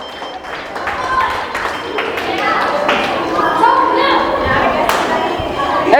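Parents clapping at a school event, a steady patter of applause from a group under loud crowd chatter and a voice speaking over it.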